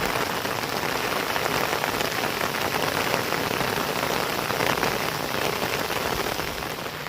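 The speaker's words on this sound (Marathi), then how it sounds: "बघा किती पाऊस पडायला लागलाय" Heavy rain pours steadily on surfaces, a dense, loud, continuous patter with no pauses.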